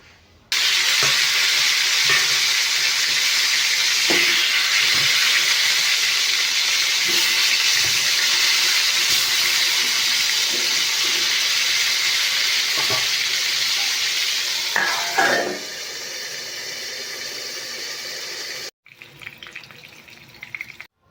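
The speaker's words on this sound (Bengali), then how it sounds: "তো এখন আমি বেগুন ভাজাটা প্রথমে করব, তারপর গিয়ে মাছগুলো ভাজা করে নেব।" Eggplant slices fry in a hot pan with a steady, loud, dense sizzle that runs unbroken for most of the stretch, then drops away abruptly near the end, leaving quieter kitchen noise.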